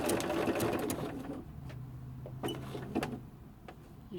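A sewing machine runs a gathering utility stitch in quilting, a fast mechanical whir and buzz that starts loud and then drops to short, fainter bursts with clicks between them.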